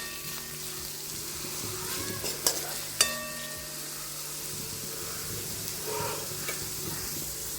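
Green and dry onions stirred while frying in a pan, a soft continuous sizzle with a couple of sharp spoon clinks against the pan and gentle scraping, close and steady, no speech.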